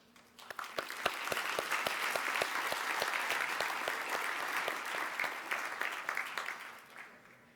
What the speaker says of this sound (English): Let's give an applause to these people who help us.